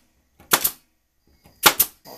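A staple gun fires twice into window screen on a beekeeping robber screen, each shot a sharp, close snap with a short rattle.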